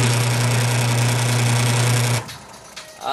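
A repaired washing machine, fixed by replacing its starting capacitor, runs with a loud steady motor hum and buzzing whir that stops abruptly after about two seconds, leaving a quiet room with a few faint clicks.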